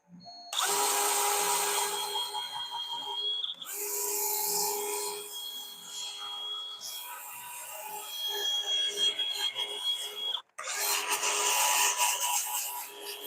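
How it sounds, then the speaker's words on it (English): A 90-degree drill used as a sander on wood at a lathe for bowl and pen turning gives a continuous high abrasive whir, close and loud, with a couple of brief pauses and restarts. "you know how I like to use my 90-degree sander. Actually, it's a drill, but I use it as a sander."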